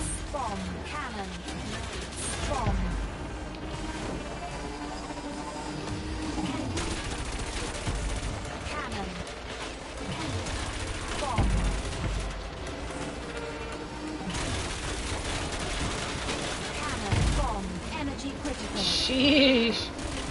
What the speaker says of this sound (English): Bomb cannon.